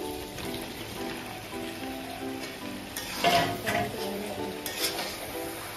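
Mutton frying in its released oil as papaya and potato go into the pot, a steady close sizzle with a louder burst and stirring scrapes midway, faint background hum throughout.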